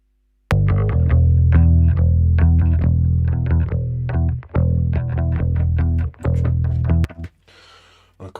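Synth-style bass part produced in Cubase with added harmonics, playing a punchy rhythmic line of short and sustained notes, loud and upfront, then dropping to a faint hiss at the end.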